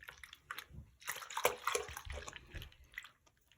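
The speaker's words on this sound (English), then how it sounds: "So now that we see it's very soapy, we're gonna dip it in the water." A fidget toy is dipped into soapy water, giving close splashing and sloshing with a few bright drips, moderately quiet, with no talking over it.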